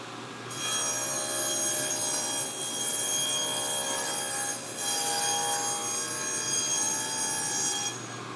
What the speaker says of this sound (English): So I'm going to cut all of these grooves